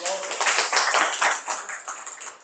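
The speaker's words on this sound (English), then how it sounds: "Round of applause." A school presentation audience claps together in a brief round of applause, a close burst of uneven claps that thins out toward the end.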